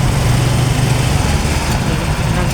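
A motorbike engine runs steadily on a hot road trip in Iligan City, a loud, constant buzzing drone mixed with wind rush, with no pauses.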